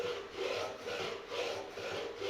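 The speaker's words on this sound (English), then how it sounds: "I'll start by just filing off the ends of those frets" A metal file rasps across the fret ends on a cookie tin ukulele, in repeated even back-and-forth strokes, close and fairly quiet, with no talking.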